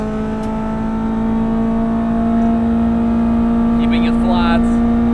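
Honda EP3 Type R with a K24 engine on the Nürburgring, a steady high-pitched engine drone holding near-constant revs from inside the cabin, with brief whine and clatter late on and no talk.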